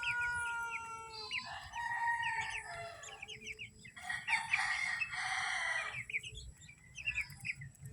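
Seven 45-day-old chickens fed rice on a farm give soft, scattered clucks and chirps with a brief crow-like call, fairly quiet against a low background hum.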